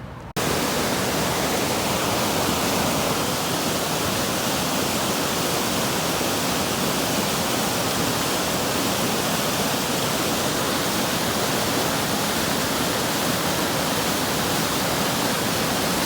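A river flowing beside a campsite on the Colorado Trail, a steady broadband rush of moving water, close and unchanging, with no voices.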